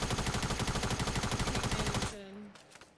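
Rapid automatic SMG fire in Fortnite, a loud dense burst of rattling shots for about two seconds, then it cuts off to quieter game sounds.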